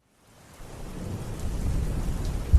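Steady rain with rumbling thunder during a storm, a dense wash of rainfall swelling from silence and building to a deep thunder crack at the end.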